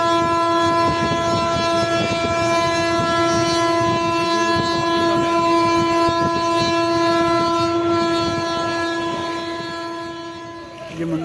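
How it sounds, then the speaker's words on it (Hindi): A train at Mandar Hill railway station, heard as a loud, continuous horn blast with a steady rumble beneath, holding for about ten seconds before fading slightly at the end. "मंदार हिल रेलवे स्टेशन है"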